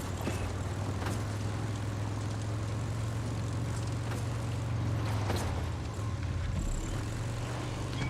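Steady droning engine of a motorcycle ridden in Far Cry 6, a continuous low hum that holds throughout with slight shifts in pitch, with no speech over it.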